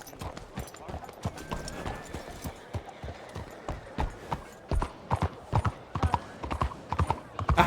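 A horse's hooves clip-clop in a steady, even rhythm in the video game Red Dead Redemption 2, moderately close and clear.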